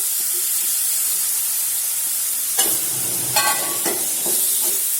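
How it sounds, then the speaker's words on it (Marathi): Chopped tomato goes into a hot pan of roasted dry spices, giving a steady sizzle with a few sharp spoon scrapes and stirring clatters near the end. "याच्यात एक टमॅटो बारीक चिरलेला टाकून द्यायचा"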